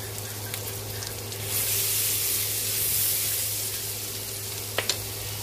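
Butter and garlic sizzle in a pan with a steady, close hiss that swells slightly midway, and a couple of sharp clinks come near the end.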